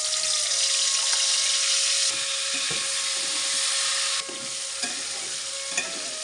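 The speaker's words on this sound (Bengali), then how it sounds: "আলুগুলোকে কিন্তু বেশি ভাজা যাবে না, হালকা করে ভেজে নিচ্ছি" Quartered potatoes seasoned with salt, turmeric and chilli frying lightly in oil, a steady bright sizzle with several clinks and scrapes from a stirring spatula and a faint steady tone beneath, no one speaking.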